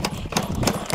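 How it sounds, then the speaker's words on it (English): An old motorbike engine runs roughly on a cold desert camping night, its uneven, pulsing bursts sputtering close by for a brief moment with no voices. "No, it's just an old bike. It just doesn't want to run sometimes."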